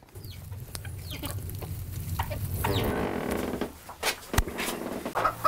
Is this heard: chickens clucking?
yes